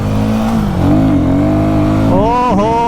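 A Royal Enfield Guerrilla 450 motorcycle accelerates hard and close, its engine note climbing through a gear change and then rising again, with loud wind noise over the ride.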